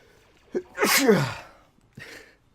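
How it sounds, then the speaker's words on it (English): A single loud, close sneeze, preceded by a quick sharp inhale and followed moments later by a short breathy sound. "Damn, sneezing."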